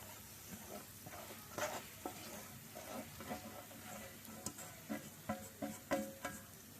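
Bread frying in hot ghee in a pan, a quiet sizzle broken by a series of spatula scrapes and taps against the metal, irregular and close, with no voices.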